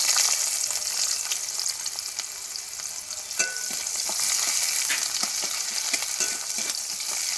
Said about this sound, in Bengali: তেলের ওপরে কুচানো পেঁয়াজ দিয়ে দিলাম।